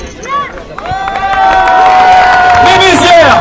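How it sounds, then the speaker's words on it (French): Crowd of children and adults applauding and cheering at a youth under-9 football tournament prize ceremony, loud and sustained, with shouting and a babble of voices rising over the clapping. "Je vous demande d'applaudir et de faire un triomphe pour prix."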